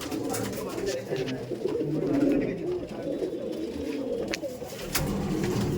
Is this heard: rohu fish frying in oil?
no